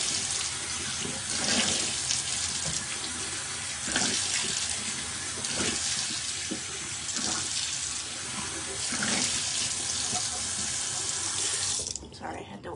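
A bathroom tap runs steadily into a sink while beauty balm is rinsed off, a close, continuous rush of water broken by splashes from hands moving under the stream, cutting off near the end.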